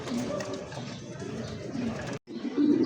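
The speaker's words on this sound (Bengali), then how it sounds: "স্ক্রিনে এই মুহূর্তে দেখতে পাচ্ছেন দুইটা কবুতর ভাই আছে" A pair of king-size pigeons coos close by, with steady soft cooing throughout and a brief break before it resumes slightly louder.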